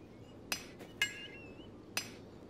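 Metal is hammered and shaped in a Christmas video game: four sharp, ringing clinks land about half a second apart, each with a bright metallic decay, over a quiet background with no talk.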